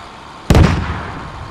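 A single sharp gunshot-like blast cracks out in the video game Squad, a loud sudden burst with a short rumbling tail fading into quiet background.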